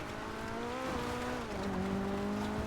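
Engine drone of a car driving on snow in a video game, a steady loud whine with shifting pitch that dips and climbs as the car moves, with no talking over it.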